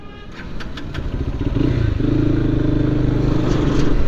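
A Lifan KPT 4V motorcycle engine runs steadily and grows louder as it pulls away, with a rising drone and no voices.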